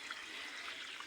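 Water flowing steadily while watering a vegetable garden, a faint, even rushing trickle throughout.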